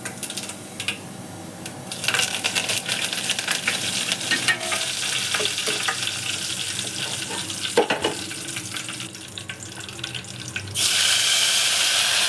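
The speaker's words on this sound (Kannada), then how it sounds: "ಇವಾಗ ಎಣ್ಣೆ ಬಿಸಿ ಆಗಿದೆ, ಸಾಸಿವೆನ ಹಾಕ್ಕೊತಾ ಇದ್ದೀನಿ" Mustard seeds splutter in hot oil with a dense, continuous crackle and sizzle, nearby and fairly loud, the popping rising in intensity toward the end.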